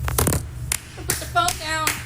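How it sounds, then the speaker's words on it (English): A few quick hand claps from a single person, close and sharp, come in short uneven bursts with a voice speaking between them and a low hum underneath. "Round of applause to the comment section."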